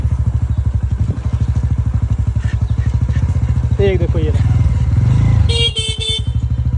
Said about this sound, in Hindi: ये मोटरसाइकिल की आवाज़ पहचानते भाई मेरी, मोटरसाइकिल जैसी आवाज़ आई तो ये तुरंत भागे